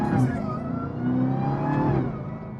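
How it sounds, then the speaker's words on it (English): A supercharged 2020 Dodge Charger SRT Hellcat Widebody engine revs up close, a loud sustained mechanical roar with the blower's whine that swells, dips briefly and builds again. "so y'all can hear this supercharger"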